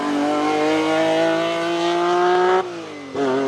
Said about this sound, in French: Il paraît que c'est un V6 Ferrari.